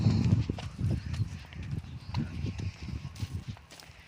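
A mare in a riding arena, soft hoof clops and shuffling steps as she grazes, fairly faint and close, with a few quiet rustling noises.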